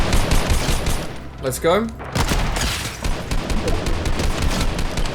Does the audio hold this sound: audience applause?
no